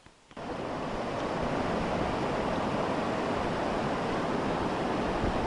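Broad, constant rush of water where two rivers, the Namlang and the Mari, meet, a loud steady roar with wind buffeting the microphone, no voices.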